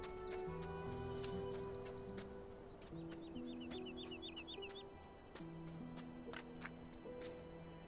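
Bird calls in the Gothic Remake game world, a quick run of short chirps over a steady ambient music bed, with clucking fowl-like calls rising from the background.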